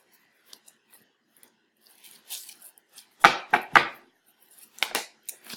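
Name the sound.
shuffling tarot cards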